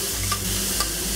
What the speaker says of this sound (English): Quick toss. About 30 seconds to soften up the onions and bring out the flavors.